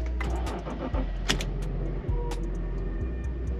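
BMW 530i E60 engine cold-starting on E85 ethanol, a loud, dense, close-up rumble that holds steady throughout with brief clicks and knocks on top and no talking.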